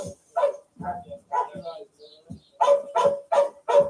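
A police dog on a lead barks repeatedly and close, loud sharp woofs in an uneven series speeding into a rapid run of barks near the end.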